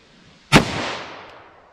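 A single sharp, loud gunshot from a .38 Special revolver firing a +P 110 grain load, a close crack followed by a short decaying echo, with quiet before and after.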